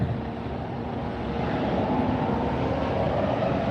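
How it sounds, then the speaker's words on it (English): A Boeing 737 MAX 8 roars on takeoff at Fort Lauderdale, Florida, a steady broad jet rumble heard from a distance, constant and unbroken throughout. "737 MAX 8 taking off now."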